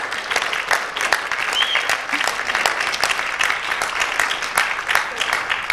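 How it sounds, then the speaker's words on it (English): Audience at a forum on homelessness giving a sustained round of applause, dense and loud steady clapping from a crowd throughout. "Let's give them a round of applause for being here."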